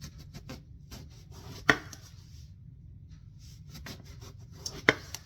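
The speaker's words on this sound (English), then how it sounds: "I'm going to slice it maybe in 1/2 inch slices." A knife slices a washed eggplant into half-inch rounds on a cutting board, heard as a series of soft rhythmic cuts with two sharper knocks as the blade meets the board, close and quiet with no speech.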